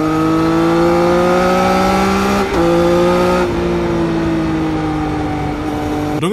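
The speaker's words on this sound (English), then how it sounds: "Triumph's inline threes are amongst the best sounding of inline threes." A loud Triumph inline three engine revs, its tone climbing steadily, dipping briefly at a shift, then climbing again before easing off.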